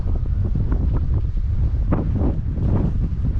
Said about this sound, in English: Hopefully the wind isn't too bad. It's blowing from behind,